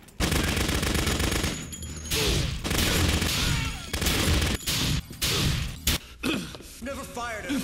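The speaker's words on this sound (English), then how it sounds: "A shotgun." A shotgun fires repeatedly in a video game, a string of loud, closely spaced booming blasts with crashing impacts, and game voices heard between shots.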